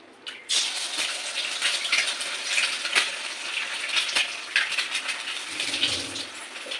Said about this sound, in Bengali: তেলটা গরম হয়ে যায়, এবার আমি ডিমটা এইভাবে ফাটাবো।